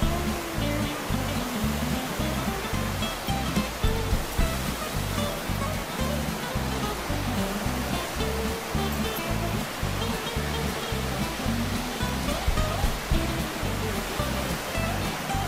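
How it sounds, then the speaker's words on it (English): Fast-moving water of the Toccoa River rushes over big rocks below a swinging bridge, a steady, dense roar that stays constant throughout with no voices. "And that is really fast moving water."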